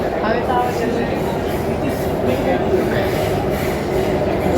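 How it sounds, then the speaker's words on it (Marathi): An underground metro train runs deep below ground toward Mandai station, a loud steady rumble and roar of wheels and tunnel noise throughout, with no clear talk. "6 मजली खोलवर जाणारी ही मेट्रो आहे"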